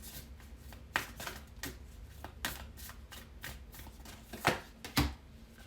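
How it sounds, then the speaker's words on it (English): Oracle cards being shuffled by hand, a run of close, crisp riffling bursts at an uneven rhythm with short pauses between, alone with no talking. "let's close off your reading with an oracle card from the universe"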